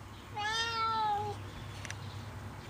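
A single drawn-out cat meow, fairly close and clear, in a garden with a faint low hum in the quiet outdoor background.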